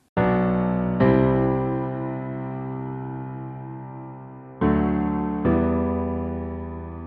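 EDM piano plugin playing a simple MIDI chord progression: four sustained, bright chords struck alone, each ringing and slowly decaying before the next, with no talking.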